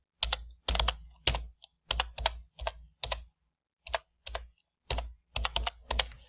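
Keys tap out an IP address on a computer keyboard during DoorBird driver setup, short clustered keystrokes in uneven bursts, close and clear with no talk.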